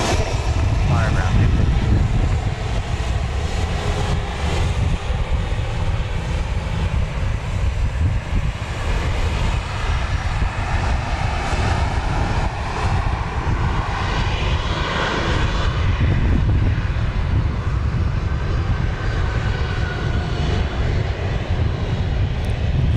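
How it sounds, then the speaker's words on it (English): A Boeing 737-800 jet airliner at Dallas Love Field roars with a continuous loud engine rumble and broad hiss that swells and holds, while people talk over it. "That looks like a 737-800, which will be going to San Antonio, Texas"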